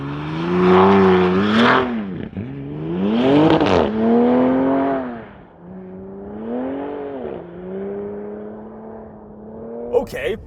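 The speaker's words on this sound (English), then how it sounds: "Ram RHO. With launch control. In the snow." Engine of a 2025 Ram RHO pickup roaring through a launch-control start on a snow-covered road, loud and close, rising and falling in pitch through several surging revs.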